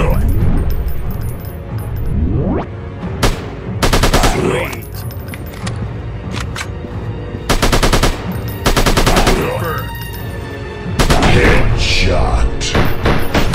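Rapid automatic gunfire and shots from a first-person shooter video game, loud bursts of machine-gun fire separated by short pauses, with thuds and booms mixed in.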